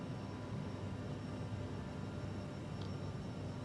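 Airliner jet engines at climb thrust in a flight simulator, a steady broadband roar with a low rumble that stays constant and even throughout, no voices.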